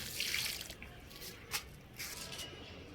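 Water poured from a container onto potted chrysanthemum plants, a soft gurgling splash at first, then drips and a brief louder splash before it trickles on quietly, with no voices.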